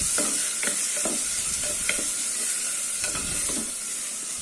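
Tomatoes and green chilies sauté in a pan for mushroom biryani, giving a steady close sizzle and hiss with a few soft scraping stirs of a spatula.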